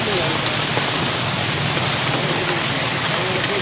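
Steady broadband rain pours down at a food-offering gathering for sadhus in Tiruvannamalai, a dense continuous hiss with faint voices mixed beneath it.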